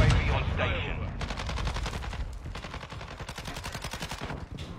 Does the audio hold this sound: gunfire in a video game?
yes